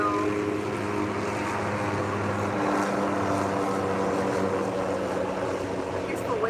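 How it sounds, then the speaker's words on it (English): A steady, loud mechanical roar of two helicopters' rotor engines fills the scene, droning continuously without pause as they pass overhead. "No point talking over the helicopters."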